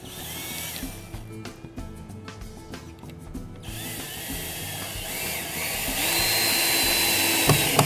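A power drill drives a screw into an exterior door frame behind the weather stripping, with stuttering bursts of motor whine and clicks, then a sustained, louder high-pitched spinning whir that builds toward the end.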